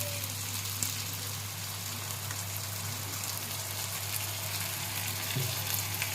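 A little water goes into a pan of cooking taro stolons, which keeps up a steady, close, hissing sizzle like light rain, with no voices over it.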